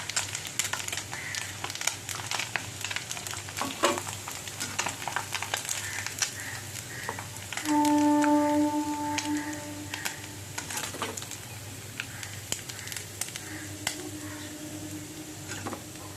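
Small punti fish sizzle in hot oil in a pan with a steady, soft crackling and occasional stirring clinks, a faint beeping tone briefly sounding midway.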